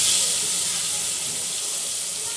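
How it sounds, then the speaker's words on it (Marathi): A bay leaf dropped into hot oil in a cooking pot sizzles steadily, a loud continuous hiss without a break. "मी आता तेजपत्ता टाकते तेलामध्ये."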